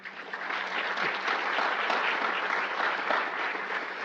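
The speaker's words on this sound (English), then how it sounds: "If we give our presenters a round of applause" A room full of people applauding presenters at a Pacific Islander health conference, dense and even clapping that holds steady for the full four seconds.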